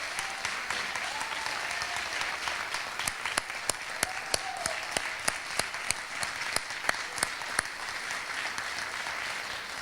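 A Baptist church congregation on Palm Sunday breaks into warm, steady applause, with several loud individual claps standing out sharply from the rolling sound of many hands.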